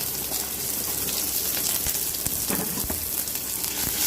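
Cumin seeds, dried red chillies and onion sizzle in hot oil while tempering for a snake gourd curry, a steady, close, continuous frying hiss with small crackles and no talking.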